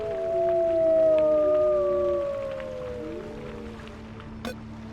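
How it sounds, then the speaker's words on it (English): Shadow claw wolves howl in the video game Before Fate, several long overlapping wavering howls rising and falling at mid distance for a few seconds, then fading into a low ambient drone with a brief click near the end. "The monitoring system detected the sound of wolves howling"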